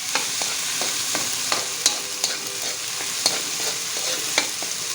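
Tomatoes fry in a pan for a mussel dish, a steady sizzle running throughout with sharp clinks and scrapes of a spoon stirring at irregular intervals, close and without speech.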